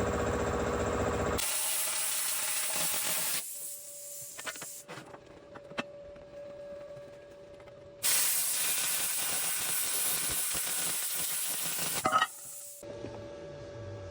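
Handheld plasma cutter slicing steel channel: two long, loud, harsh hissing blasts separated by a quieter stretch of faint hum and clicks.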